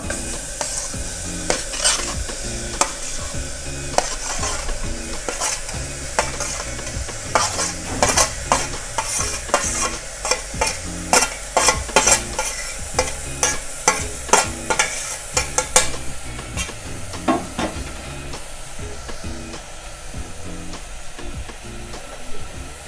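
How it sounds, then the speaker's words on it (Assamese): A utensil scrapes and stirs rhythmically through grated carrots frying in ghee over low heat, with gentle sizzling underneath; the clattering strokes come in quick bursts. "ইয়াতে মই ধুনীয়াকৈ লাহেকৈ লাৰি দিম কম জুইত ভাজিব লাগিব"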